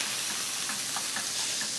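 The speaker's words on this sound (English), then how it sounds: "So I just want to lay these into a frying pan." Steady crackling sizzle of a single layer of bacon frying in a pan, a continuous bright hiss with small pops scattered through it.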